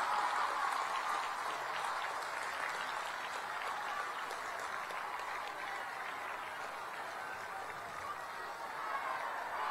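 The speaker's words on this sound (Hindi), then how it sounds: "ডাঙৰকৈ হাত চাপৰি বজাই আমাৰ সন্মানীয় প্ৰধানমন্ত্ৰী গৰাকীক আদৰণি জনাওক" A large crowd at a public event in Khanapara greets Prime Minister Narendra Modi with sustained, dense applause, a continuous roar of clapping that holds steady for the whole stretch, with a voice faintly audible beneath.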